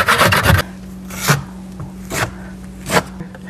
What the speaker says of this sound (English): So we're going to scrape away anything loose.